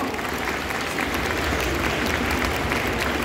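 An audience at a cosplay contest in a convention hall applauds a Jinx cosplayer, a thick continuous roar of clapping that stays loud and full from start to finish.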